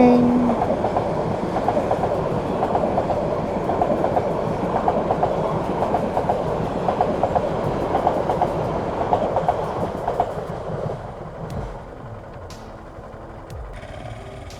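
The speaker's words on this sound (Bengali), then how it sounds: "ট্রেন আসছে, ট্রেন।" At night on a pitch-dark village road, a train thunders past close by, its steady rolling roar and rhythmic wheel clatter holding for about ten seconds before fading. A short horn note sounds at the start.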